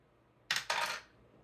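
Dice clatter briefly on a table during a tabletop roleplaying game session, two quick close rattles in succession before fading to quiet.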